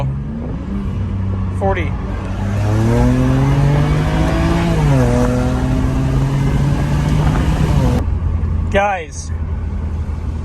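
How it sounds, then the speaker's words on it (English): A BMW 335i turbocharged engine with a newly fitted cheap intercooler revs up through rising gears inside the car, a loud climbing drone with shifts, while someone talks briefly over it. "I could hear the turbo noise like maybe 2 times louder"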